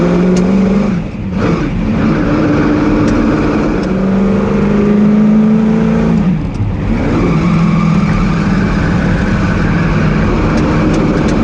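A Ford GT40 race car accelerates hard at the 2018 Tour Auto, its loud, close engine roaring continuously and rising in pitch through several gear changes.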